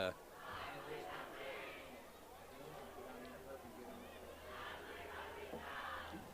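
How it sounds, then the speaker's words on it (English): Student section crowd at a high school football game, New Oxford versus Dover, cheering and shouting from a distance as a broad, steady roar with swells, rising toward the end. "we can hear the new Oxford student section"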